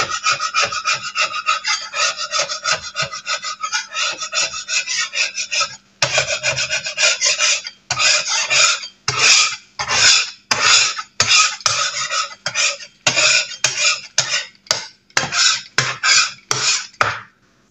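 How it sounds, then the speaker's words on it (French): Close, steady rasping scrape of dried, stuck flour being worked off a kitchen surface, continuous at first, then broken into short repeated strokes with brief gaps, loud and alone. "on gratte et hop, Ça décolle le truc."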